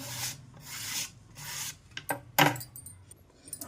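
A peeled potato is rubbed across a grater for a fasting-day chivda, giving about four rhythmic, close rasping strokes followed by a few sharp clicks and scrapes.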